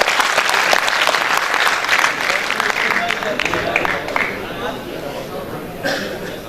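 Audience applause at a youth mushaira poetry gathering, a dense roar of many hands clapping that stays loud and steady before easing slightly toward the end, with a bit of crowd murmur underneath.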